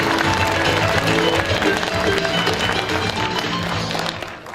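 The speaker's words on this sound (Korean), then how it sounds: "다시 한번 큰 박수로 환영해 주시기 바랍니다" Audience at a political lecture event welcoming a speaker with applause, a dense, loud wash of clapping mixed with crowd noise that tapers off toward the end.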